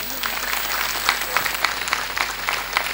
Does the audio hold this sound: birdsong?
no